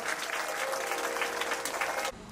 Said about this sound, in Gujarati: જોરદાર તાળીઓથી સ્વાગત કરીએ છીએ.